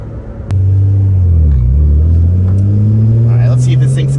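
A BMW 135i engine drones steadily while cruising around the block, a loud low hum that rises and dips slightly in pitch as the car moves along.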